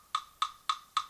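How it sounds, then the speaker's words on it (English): Metronome clicking in 6/8 with eighth-note subdivision, four evenly spaced sharp ticks about a quarter second apart, crisp and close with nothing else sounding. "So my 6/8 will sound like this."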